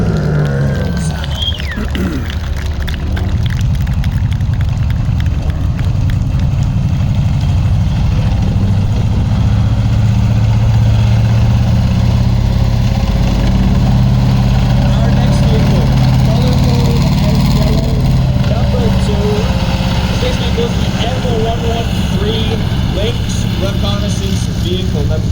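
A Ram Kangaroo armoured personnel carrier idling at an outdoor military vehicle show, a loud, steady low engine rumble running throughout with a crowd and an announcer's voice over it.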